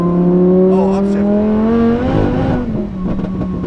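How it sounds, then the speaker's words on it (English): Lamborghini engine under load, a loud sustained tone rising in pitch, then a sharp blip and rev change at a gear shift, followed by rougher revving; voices talk faintly underneath. "So when you down or upshift, yeah, it blips."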